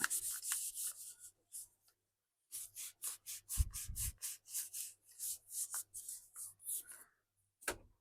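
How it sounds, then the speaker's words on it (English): A cloth scrubs a Tineco Floor One S3 floor cleaner head in quick, repeated strokes, close and fairly soft, running in bursts broken by short pauses. "Just going to put some elbow grease on a cloth. And I'm going to give this a clean."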